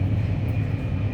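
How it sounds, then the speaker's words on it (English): Steady, loud low rumble and broadband roar inside a Korean bullet train cabin heading to Busan, continuous and unbroken with no voices. "On bullet train to Busan. All right, so it is very noisy in here."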